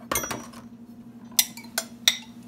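Chopped spinach and baby Bella mushrooms tipped into a large bowl, heard as a few sharp clinks and clatters of utensil against the bowl separated by quiet gaps, close by.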